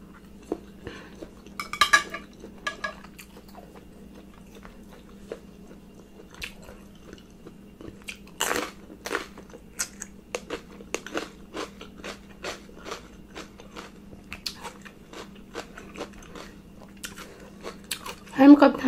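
Someone eating Korean instant noodles with hot dog and ham, with soft chewing, slurping and occasional clinks of cutlery against a bowl over a steady background hum, interrupted by brief bits of talk.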